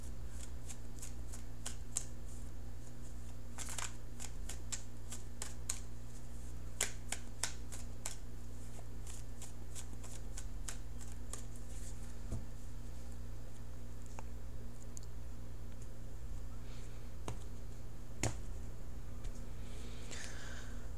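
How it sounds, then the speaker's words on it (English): A deck of tarot cards is shuffled and cut close by, with repeated crisp riffling bursts and sharp flicking snaps spread irregularly over a quiet room hum, with no voices. "give me a few more seconds and I'll cut the cards"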